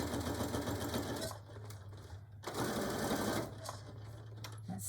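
Close, loud sewing machine runs in short bursts of rapid needle chatter while back stitching a beach or diaper bag, with brief pauses between the runs.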